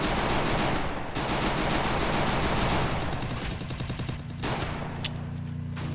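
Gunfire in the Free Fire mobile battle game: loud, dense bursts of rapid automatic shots that run almost continuously and sit close and harsh, with no talking.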